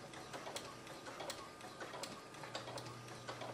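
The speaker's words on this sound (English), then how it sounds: "you'll find that the sewing machine's quite happy to carry on going" A sewing machine runs slowly while stitching the head of a bat plushie, a steady rapid mechanical ticking and whirr heard up close and alone.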